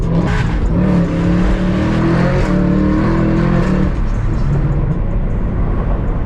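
Camaro ZL1 and Cadillac CT5-V Blackwing engines rev hard on a Dallas street, a loud continuous roar with rising and falling pitch, close by, with faint tire noise underneath.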